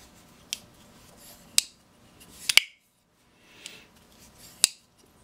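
A Lionsteel SR-1 folding knife being worked open and closed, giving a few sharp metallic clicks and snaps spread over several seconds between soft sliding rustles, close and quiet.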